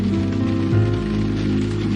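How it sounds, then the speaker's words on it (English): Heavy rain pours steadily throughout a scene in the point-and-click adventure game Blackwell Epiphany, a dense continuous wash with a low tonal music bed beneath it and no voices. "It's raining buckets."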